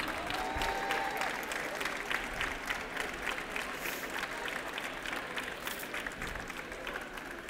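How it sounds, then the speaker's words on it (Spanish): An audience applauds a graduate on stage at an architecture graduation ceremony marking 25 years, with continuous full-room clapping at moderate volume, a few voices in the crowd mixed faintly beneath it. "fuerte el aplauso para Ramiro"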